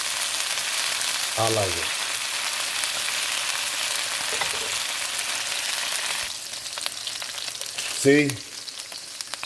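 Pepper beef searing in a hot pan, a steady close sizzle that runs through the whole stretch, while someone speaks briefly over it twice.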